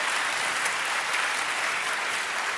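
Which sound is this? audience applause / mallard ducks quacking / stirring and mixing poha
audience applause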